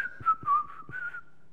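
A person whistles a brief, wavering tune alone, soft and close, with a few light taps underneath.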